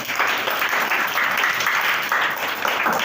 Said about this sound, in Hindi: अब वाह वाह, तालियां बजा दीजिए।